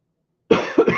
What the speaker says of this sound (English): I apologize for the coughing here